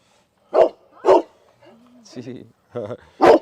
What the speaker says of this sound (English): He's barking at the car now.